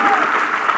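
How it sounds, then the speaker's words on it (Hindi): An audience at a Hindi-language training session claps together in a dense, steady burst of applause, loud and continuous over its short length. "तो आप लोगों के लिए एक जोर से ताली होना चाहिए"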